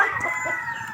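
A skittish, hard-to-catch chicken squawks and clucks loudly up close as it is grabbed, its agitated calls running continuously through the moment.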